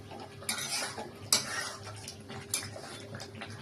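Chicken being stirred in a pan with shahi garam masala, a spoon scraping and clinking against the metal in a few distinct strokes over a soft, steady sizzle, close and moderately loud.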